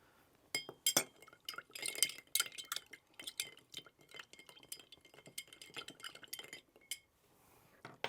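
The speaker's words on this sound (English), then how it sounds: "And then give these a stir." A tequila amaro cocktail stirred in a glass over a big clear ice cube: a spoon clinks and rattles against glass and ice in quick irregular taps, close and fairly quiet, with no talking.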